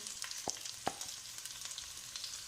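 Capsicum and potatoes frying with onions in a pan make a faint, crackly sizzle with a few sharp pops and light spoon scrapes, quiet and close with no voices.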